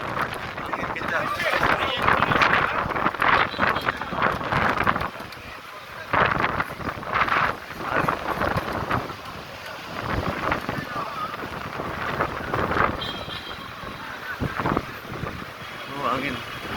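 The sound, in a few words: strong wind blowing into microphone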